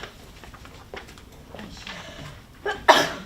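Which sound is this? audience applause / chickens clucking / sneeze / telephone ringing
sneeze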